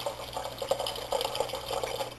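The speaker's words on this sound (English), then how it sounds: "I think I have enough water in my water pitcher to put a little in here." Water poured from a pitcher into a cooking pot for creamed chicken, a soft, close, continuous liquid splash and trickle lasting a couple of seconds.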